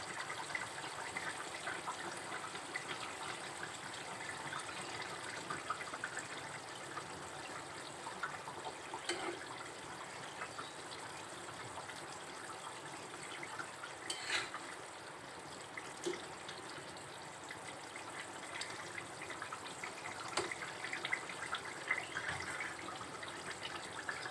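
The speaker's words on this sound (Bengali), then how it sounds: "যখন ঝোলটা এরকম টকবক করে ফুটবে" Broth for a rohu fish and bottle gourd curry boils at a steady rolling bubble, a soft continuous hiss and burble with occasional louder pops, heard alone without voices.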